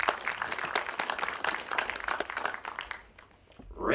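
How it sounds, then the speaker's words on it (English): An audience at a presentation on Lake Erie shipwrecks claps for a volunteer called up front, a brisk crowd applause with crisp close claps that thins and fades before a voice begins at the very end. "round of applause for Michael"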